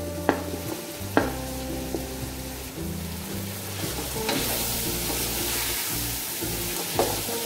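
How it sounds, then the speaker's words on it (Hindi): Turnip and cauliflower pieces tumbling into a pan of frying tomatoes and spices, with a steady loud sizzle, a few knocks and stirring scrapes, and no talk. "ये शलजम है, ये इसमें हम डाल देंगे और ये गोभी भी डाल देंगे इसमें।"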